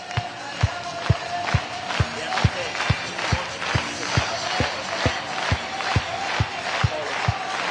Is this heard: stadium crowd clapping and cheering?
yes